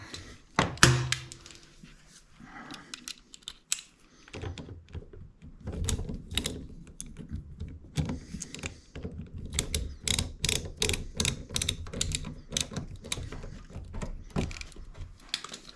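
Electrical outlet screw tightened with a flathead bit on a power tool; a sharp clunk, then a run of rapid clicking, ratcheting mechanical taps, close up and with no talk.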